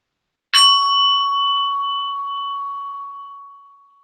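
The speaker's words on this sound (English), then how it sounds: "Here is that bell again." A single meditation bell is struck once, giving a clear bright ding that rings on as a pure sustained tone and slowly fades over several seconds in silence.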